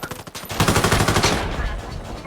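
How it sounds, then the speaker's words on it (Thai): Rapid automatic gunfire from a video game, a loud, close burst of fast rhythmic shots that stutters at first, then rattles continuously before easing off. "ไปถือปืนเล็งยิงเลย"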